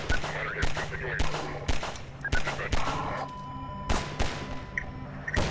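Rapid gunfire from the Half-Life 2 video game, with repeated loud bursts and shots in a dense, continuous barrage, up close and intense.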